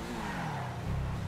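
A car in the video game GTA V pulls away with a loud engine rev, as the low motor note rises and tires scrub briefly while it accelerates off.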